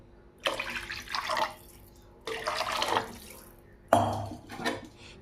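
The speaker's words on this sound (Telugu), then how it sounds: "దానికి సరిపోయే మోయనంగా వాటర్ పోసుకుందాము." Water poured into a pot of Andhra-style pepper rasam in three separate splashing pours, each a few seconds of close, fairly loud gushing with short pauses between, no talk.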